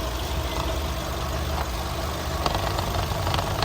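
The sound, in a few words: Skoda Octavia 2008 1.6 MPI petrol engine running, automatic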